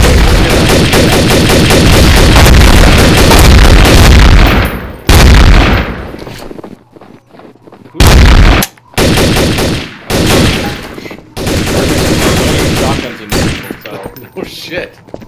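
Loud bursts of gunfire in a multiplayer shooter, long sustained volleys broken by short pauses and then renewed clusters of shots, with voices briefly audible between them.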